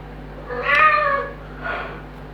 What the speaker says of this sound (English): there's the cat and dog.